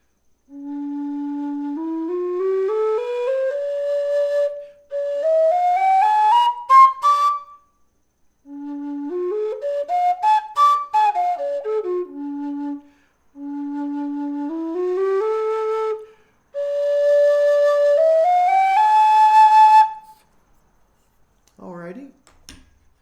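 A Carbony big bore low D tunable whistle plays several slow rising and falling melodic runs, clear and close, separated by short pauses, with a brief breathy sound at the end.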